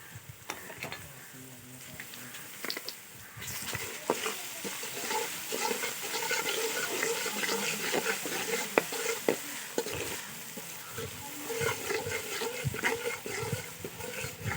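Ginger garlic paste fries in a pan for fish curry, a soft continuous sizzle broken by frequent stirring scrapes and clicks, fairly quiet and close throughout with no talking.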